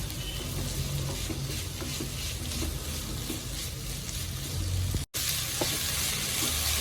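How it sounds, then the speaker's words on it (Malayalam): Finely chopped potatoes sizzling and frying in a pan for vegetable samosa filling, a steady hiss with stirring scrapes throughout and a brief cut near the end. "ഇനി ഉരുളക്കിഴങ്ങ് ചെറുതായിട്ട് അരിഞ്ഞത് ഇട്ട് കൊടുക്കാം നന്നായിട്ടൊന്ന് വെന്ത് കിട്ടണം"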